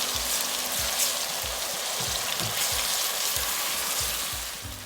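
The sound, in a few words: onion paste frying for prawn curry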